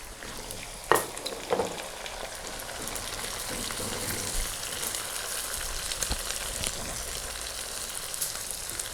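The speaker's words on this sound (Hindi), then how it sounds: "इसको हम 2 से 3 मिनट भून लेंगे।" Meat and potatoes for aloo gosht salan fry in a pot with a dense, steady sizzle and crackle, broken by an early clank and scraping stirs of a spoon.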